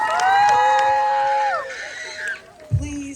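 A crowd cheers and whoops with long, high sustained voices at the opening ceremony of a children's race fundraiser for pediatric cancer. The cheering fades partway through, leaving a brief low shout near the end.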